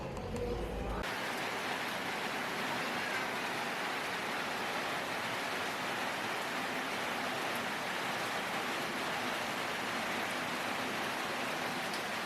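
Long tom fish curry boils steadily in a covered pot, a constant dense bubbling hiss that holds at an even level throughout, with no voices.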